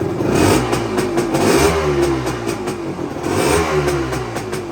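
A 1975 Yamaha DT250 motorcycle engine running steadily close by, a loud buzzy two-stroke drone with slight rises and dips in pitch, heard alone without talk.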